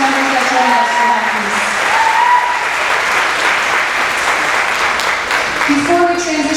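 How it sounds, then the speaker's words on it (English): An audience claps steadily for a school orchestra of beginning and advanced members at an elementary spring concert, sustained and fairly loud, with a voice talking over it in places. "Giant round of applause for our beginning orchestra and our advanced orchestra members that join us"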